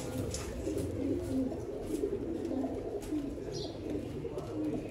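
Pigeons coo softly in repeated low, throaty phrases, close by, with faint background rustle and no voices.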